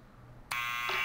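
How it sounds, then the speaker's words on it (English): A door buzzer at a liquor store in the Back to the Future video game sounds abruptly after a quiet moment, a loud, steady electronic buzz holding to the end, with a second tone layered on near the close. "Let's press the buzzer."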